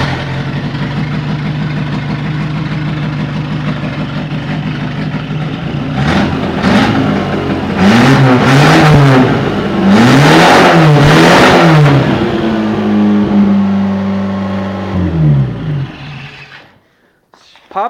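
A compact demolition derby car with a badly damaged back end cranks and catches, then revs hard several times in loud close bursts before settling to a rough idle and shutting off.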